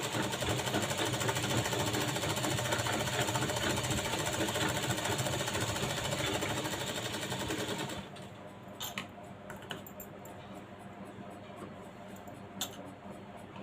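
A sewing machine top-stitching a blouse lining whirs in a loud, continuous run for about eight seconds, then stops and gives way to scattered clicks and light rattling.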